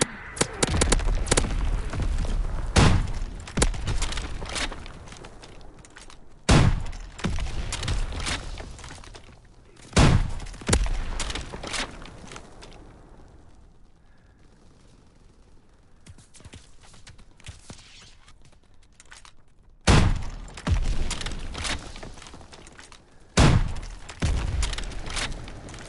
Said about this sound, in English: Sending mortar round.